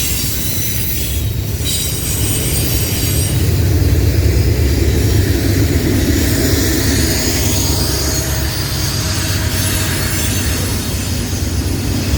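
Norfolk Southern freight train 154 rolls past with Union Pacific 6916, a C44ACM rebuild fresh from Fort Worth, running as a mid-train unit: a loud, steady close rumble of wagons with sustained high wheel squeal and no voices.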